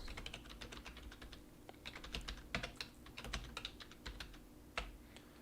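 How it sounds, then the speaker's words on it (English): Quiet, steady tapping of keys on a computer keyboard as a password is entered, a quick irregular run of close, soft clicks with faint background hum. "If I type in the password properly, I will."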